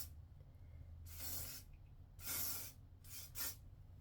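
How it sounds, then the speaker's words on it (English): Three short hissing bursts from a spray bottle misting water onto a curly deep wave wig, each lasting about half a second, separated by quiet gaps, fairly close. "So I'm just gonna spray the hair down."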